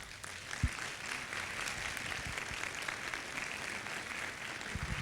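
An audience clapping after an evening talk on youth, a steady, moderately distant wash of applause from many hands lasting the whole stretch, with a single sharp thump near the start.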